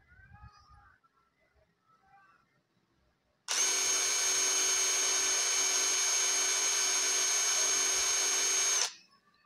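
A DeWalt 12V DCF impact driver runs free at its fastest speed, a loud, steady high-pitched whine that holds for about five seconds and then cuts off, heard alone.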